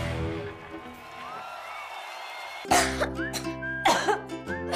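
A person coughs several times in a cough syrup advertisement, with harsh bursts clustered near the end after a quieter musical stretch.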